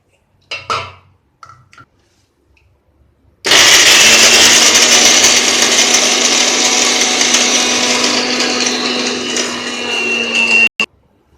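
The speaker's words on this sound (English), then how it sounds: "we combine the sesame, almonds and coconut, and we'll grind them to a powder, fine powder" A kitchen grinder blends sesame seeds, almonds and coconut into a fine powder, a loud, steady motor roar with rattling grit that runs for about seven seconds before stopping abruptly, preceded by a few brief clinks.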